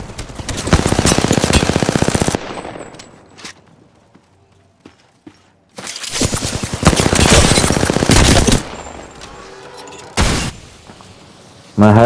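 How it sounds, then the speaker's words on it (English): SMG gunfire in Apex Legends: loud, rapid automatic bursts close by, a long burst, a quiet gap with faint clicks and steps, then more sustained firing and a final short burst. "I wish I could hit shots from that far with an SMG."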